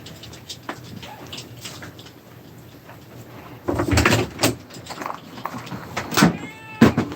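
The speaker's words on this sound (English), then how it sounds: "What you saying, kitty?" An indoor house cat meows a few times amid household clatter and cupboard or door bumps, fairly close and moderately loud, with brief mid-pitched cries near the end.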